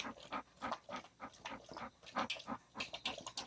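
A dog in a house gives a quick, rhythmic run of faint, muffled barks, about a dozen short bursts in steady succession, with no talk.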